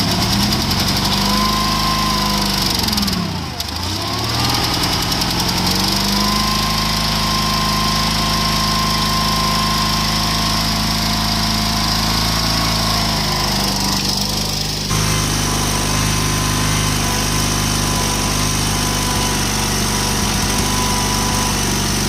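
A White GT1855 garden tractor engine runs steadily and close up, a continuous droning hum with a brief dip in pitch early on before settling back to an even, unbroken idle.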